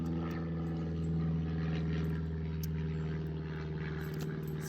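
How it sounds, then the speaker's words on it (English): A propeller airplane passes overhead outdoors, a steady droning engine hum with a faint rise and fall in loudness, heard alone without talk. "sorry, just getting distracted by the plane."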